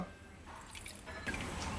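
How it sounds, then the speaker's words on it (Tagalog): A small splash of water trickles into a bowl with egg yolk for homemade mayonnaise, a soft, brief pour close to the microphone. "Konting tubig, konti lang."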